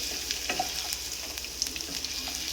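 Chopped ginger fries in hot oil in a pan for a Malabar fish curry, giving a steady close sizzle with small crackles and pops, no voices.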